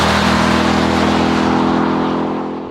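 A Dodge Durango SRT Hellcat's supercharged engine roars loud and close, holding a strong harmonic drone before easing off and fading slightly at the end, no talk.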